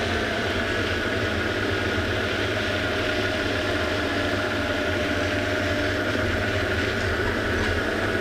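Safari vehicle engine on an afternoon game drive in the South African bush, rolling slowly: a steady, continuous low drone with broadband rumble, close and even throughout, no voices.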